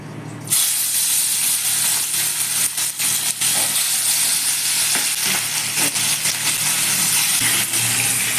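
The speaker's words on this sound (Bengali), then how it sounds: "এবার আমি মাছটাকে এক এক করে ভেজে নেব" Parshe fish, salted and rubbed with turmeric, frying in hot mustard oil in a pan: a loud, steady sizzle and hiss bursts in after a quiet half-second and carries on with crackles and spits throughout.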